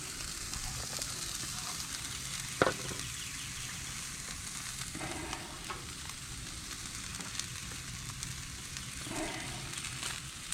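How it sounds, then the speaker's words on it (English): Vegetables sizzling on a hot Blackstone griddle at a campsite, a steady close frying hiss with a few clinks of a utensil. "We put the veggies right there."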